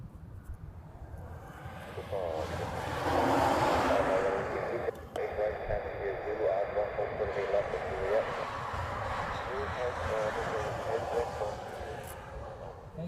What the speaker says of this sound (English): This is a Delta coming in from Seattle.